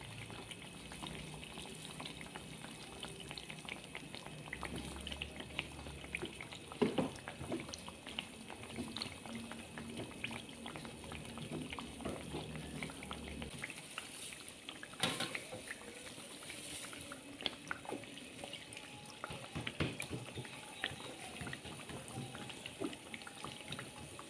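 Tumpoe, a traditional Aceh snack, frying in hot oil, a soft continuous sizzle and bubbling with scattered crackles and small clinks, fairly quiet and close, no talk.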